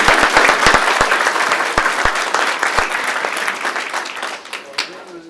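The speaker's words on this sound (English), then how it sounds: "One more big round of applause." Loud sustained applause from an audience at a school board meeting, dense clapping filling the whole stretch with a few sharper claps early on, with voices mixed in as it begins to fade toward the end.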